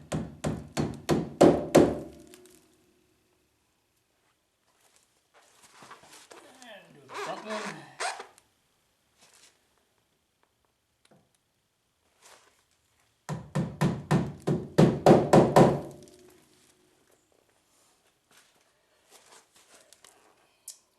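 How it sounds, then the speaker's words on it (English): A rubber hammer taps plugs into the rock sliders of a 2023 ZForce 950 HO EX, coming as two bursts of quick, sharp, evenly spaced knocks. A softer scraping handling noise falls between them. "And use a rubber hammer."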